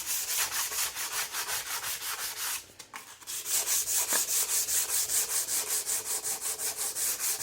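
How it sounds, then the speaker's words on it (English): Coarse PSA abrasive paper scrubs the crud off an old Atkins saw in steady, rhythmic back-and-forth strokes, loud and close, with one brief pause partway through. "Using this kind of abrasive to start with just helps cut through the worst of it"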